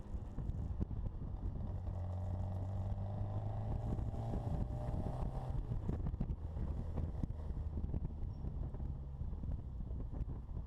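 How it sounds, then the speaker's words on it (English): A small car's 1275 engine idles steadily and continuously, a low rumbling drone with a faint tonal hum that fades partway through, recorded close with some wind buffeting. "I'll let you listen to the engine for a minute here"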